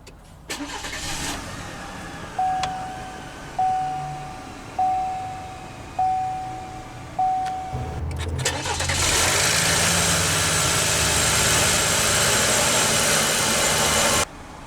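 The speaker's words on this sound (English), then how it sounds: "let's go ahead and start the engine" A 2022 Chevrolet Silverado 1500 WT crew cab pickup with a 2.7-liter turbo engine chimes five times, then cranks by push-button ignition and roars to life, settling into a loud, steady idle before cutting off.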